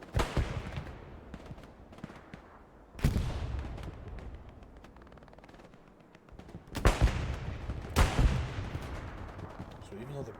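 Artillery shelling and rifle fire in the World War II shooter game Hell Let Loose, with several heavy booming blasts spaced apart over a steady crackle of gunfire, while a voice talks faintly underneath.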